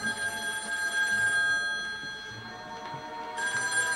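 A telephone rings with a sustained bright bell tone that pauses briefly and then starts again, close and fairly loud, with no one speaking.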